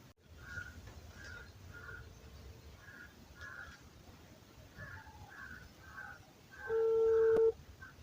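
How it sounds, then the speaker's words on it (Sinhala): A phone call is placed. A string of short dialing tones beeps in an uneven rhythm, then a steady ring tone sounds near the end, quiet against a faint hiss. "ඉතින් අපි මුලින්ම මහියාට කෝල් එකක් කරමු"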